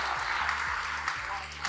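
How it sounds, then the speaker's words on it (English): Applause from an audience welcoming creator Urvi onstage at a creators meetup, a brief burst of steady clapping throughout with a low hum underneath. "Give a huge round of applause for Urvi,"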